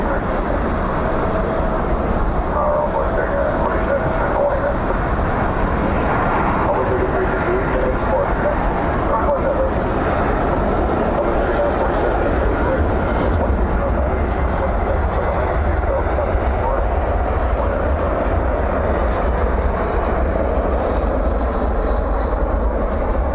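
A departing aircraft at night at Dallas Fort Worth airport produces a steady, moderately loud engine rumble that holds throughout, with faint background noise and no clear peak or pass-by.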